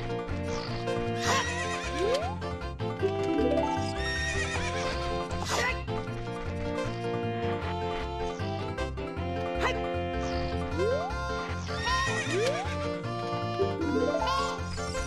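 Horse neighing in Zelda Ocarina of Time, several loud whinnies repeating every few seconds over layered game music and background sounds.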